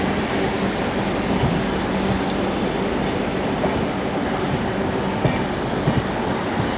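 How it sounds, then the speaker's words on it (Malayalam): A 16-car Vande Bharat Express pulls into Trivandrum Central station, a steady broadband rumble of rolling wheels and rail noise that stays loud and even throughout, with faint clicks and no talking. "അപ്പോൾ വന്ദേ ഭാരത് അങ്ങനെ ട്രിവാൻഡ്രം സെൻട്രൽ സ്റ്റേഷനിലേക്ക് കയറുകയാണ്"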